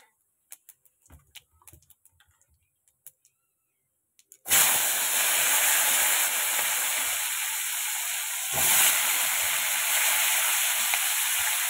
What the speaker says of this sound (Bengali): দিয়ে দিচ্ছি একটু জিরে ফোড়নে